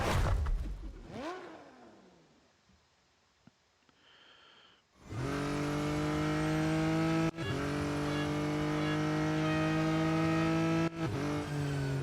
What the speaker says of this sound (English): we'll finish off doing the time trial around the Bridge Grand Prix circuit at Silverstone with the McLaren Artura GT4